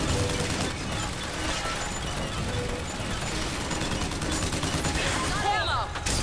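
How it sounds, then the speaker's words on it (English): A turret in the video game Bioshock Infinite fires in a steady, loud stream of rapid machine-gun bursts, layered with game effects and a high sweeping tone near the end. "Had her open that turret up, so now she'll shoot at him."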